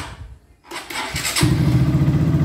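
Fuel-injected motorcycle engine starting after a brief quiet pause, a short starter whir followed by the engine catching and settling into a close, loud, steady idle with a rhythmic low throb.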